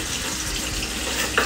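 Beef steak frying in a pan with a sprig of thyme, a steady close sizzle and crackle running throughout, with a brief brighter spatter near the end.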